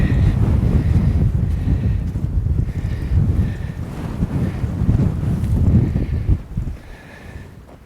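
Strong Chinook wind buffets the microphone in a steady, low roar, with gusts rising and falling throughout and a faint watery wash underneath.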